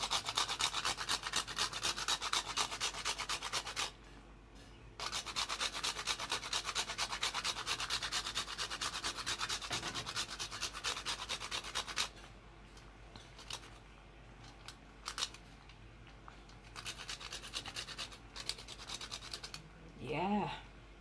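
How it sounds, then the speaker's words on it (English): Whole nutmeg rubbed against a grater in fast, steady rasping strokes, close and continuous with a couple of short pauses, then fainter scraping and a brief voice near the end. "And now I will grate my nutmeg."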